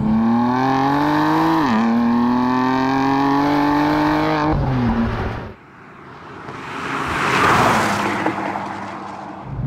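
A steady engine drone with shifting pitch on a rough road, then a car whooshes past close by, swelling and fading.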